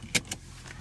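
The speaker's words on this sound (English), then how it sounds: "I'm going to put my seatbelt" A car seatbelt being buckled, two quick metallic clicks close together at close range in a quiet car interior.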